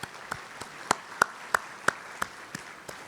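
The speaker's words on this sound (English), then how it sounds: "let's give all of those folks a big round of applause" A few hands clapping for elected officials at a county sports awards and hall of fame ceremony: sparse, evenly spaced claps, about ten in three seconds, fairly faint against a quiet room.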